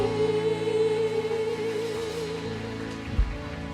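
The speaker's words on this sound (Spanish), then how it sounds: "Oh, dele ese aplauso al Señor." A church congregation claps steadily as a dense, rain-like patter over sustained music, continuing throughout.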